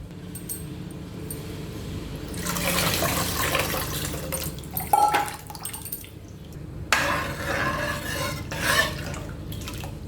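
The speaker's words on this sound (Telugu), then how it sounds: "ఆ చింతపండు రసంని ఇందులో పోసి ఈ పిప్పులో ఇంకొంచెం నీళ్లు వేసి ఇందులో వేసుకోవాలి" Tamarind juice and more water are poured into dal for pappu charu, with splashing liquid pours in two bursts and wet sloshing between them, fairly close.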